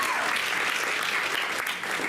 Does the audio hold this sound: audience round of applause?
yes